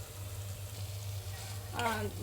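Pieces of pigeon meat are spooned into a hot wok and sizzle, a steady close frying hiss with a low hum beneath and a short voice near the end.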